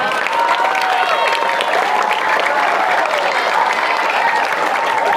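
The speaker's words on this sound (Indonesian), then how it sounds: "Tepuk tangan, tepuk tangan." A crowd claps in response to a preacher's call, with continuous, evenly sustained applause and cheering voices mixed in, fairly loud throughout.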